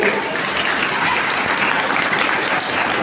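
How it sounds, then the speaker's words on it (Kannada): Audience applause at an educational awards ceremony in Tumkur, Karnataka: a dense, steady wash of many hands clapping together, loud and continuous throughout without a break. "ಒಂದು ಚಪ್ಪಾಳೆ ಹೊಡೀರಿ ಎಲ್ಲರಿಗೂ"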